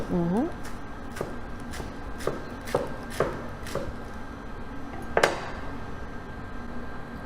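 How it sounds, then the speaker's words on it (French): A knife finely chops lettuce on a board in a kitchen, making a series of crisp, evenly spaced cuts about twice a second, with a brief voice near the start and one sharper cut toward the end. "On va ciseler notre laitue."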